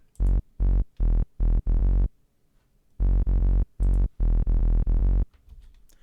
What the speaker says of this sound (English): And this is basically the sub bass.